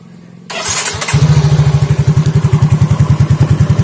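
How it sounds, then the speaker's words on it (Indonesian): A Yamaha Fino or Mio J scooter engine is started after a quiet pause, catches with a loud burst, then settles into a close, steady, pulsing idle with a regular thumping rhythm. "Nah, oke, sekarang kita coba ya, kita nyalakan motornya"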